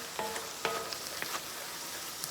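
Crawfish tails sizzling in fat as they are stirred in a pan for Louisiana Cajun corn maque choux, a steady close crackle with scattered scraping pops and no talking.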